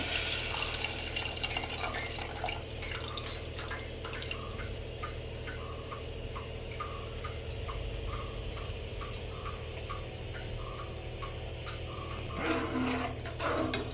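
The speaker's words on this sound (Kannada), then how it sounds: "ಹುಣಸೆ ನೀರು ಬಿಡಬೇಕು" Tamarind water poured into a cooking pot of neer saaru, a steady trickling, splashing flow that runs the whole time at even volume, with no talking.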